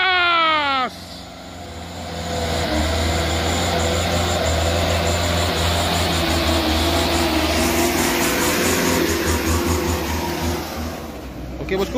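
Heavily loaded Hino truck engine accelerating, a deep sustained diesel roar building and holding loud and close, after a brief rising whistle at the start, with people talking over it.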